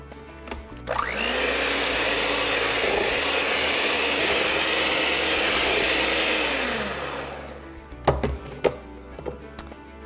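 An electric hand mixer whirs steadily for several seconds while beating eggs into batter, its pitch shifting slightly as it works, then cuts off, followed by a few close knocks and clatters of bowl and beaters.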